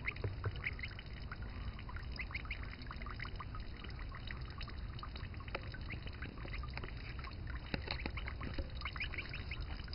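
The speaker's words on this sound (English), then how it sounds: "Pipper's swimming in the koi pond." Pipper the gosling swimming in a koi pond, soft continuous splashing and trickling water with small dabbling clicks, faint and close, with occasional light chirps.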